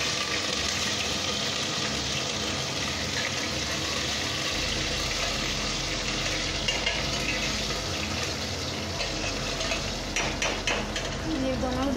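Green chilies dropped into hot oil in a pan on lowered heat while making aloo paratha, a continuous steady sizzle with some faint clinks and a low hum running underneath.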